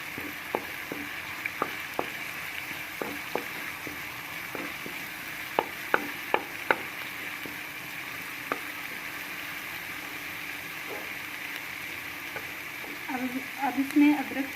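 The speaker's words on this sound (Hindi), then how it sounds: "और इसको जो है हल्का सा बस फ्राई करेंगे।" Garlic sizzles lightly in a pan beneath a steady low hiss, with scattered soft ticks and scrapes of stirring and a brief clatter of activity near the end.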